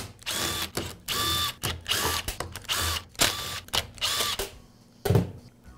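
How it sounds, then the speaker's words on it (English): Removing the side cover from a Troy-Bilt string trimmer's throttle trigger handle with a power driver, giving several close, loud whirring bursts separated by short pauses, ending with a clunk. "I'll begin by removing the side cover from the throttle trigger handle."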